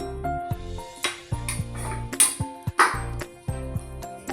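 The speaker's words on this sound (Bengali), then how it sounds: "এই আমি ঢাকা দিলাম" A lid set down over a wok of mango pickle, with a few sharp metallic clinks and clatters standing out against quiet kitchen noise nearby.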